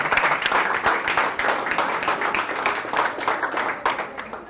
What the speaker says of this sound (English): Round of applause for our criminal.